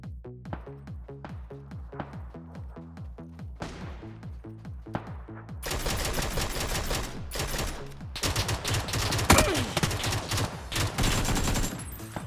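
Bursts of video game gunfire from a shooter, first a steady run of rhythmic single shots, then dense, loud rapid automatic fire with sharp cracks, close and continuous over the second half.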